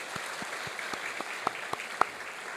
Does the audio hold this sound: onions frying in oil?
no